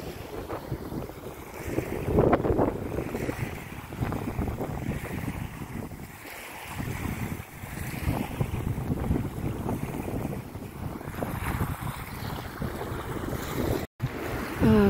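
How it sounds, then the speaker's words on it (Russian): Strong wind buffets the microphone while walking along a seashore, a continuous roaring rumble with gusting swells and faint surf beneath, no talking. "Очень сильный ветер."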